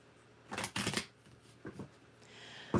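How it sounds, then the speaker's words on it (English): Tarot cards are shuffled up close in a few quick riffling bursts, soft and papery, with short pauses between and a final sharp flick at the end. "we're going to shuffle the cards for my water signs"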